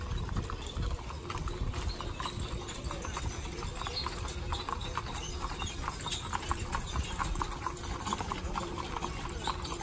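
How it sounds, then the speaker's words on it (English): Hooves of a horse clip-clop steadily on hard ground at a mule day event in Winfield, Alabama, in a continuous walking rhythm, close and clear, with faint background noise throughout. "That is a horse."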